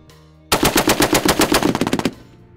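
An M2 .50 caliber machine gun fires a single loud, close burst of about fifteen rapid, evenly spaced heavy shots lasting around a second and a half, with no talk.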